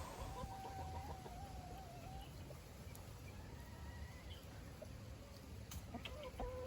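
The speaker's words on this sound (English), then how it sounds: "the chickens and goats here at Keiki and Plow" Chickens cluck and squawk softly in the background amid steady outdoor ambience at a farm with goats, with a horse-like whinny rising early on.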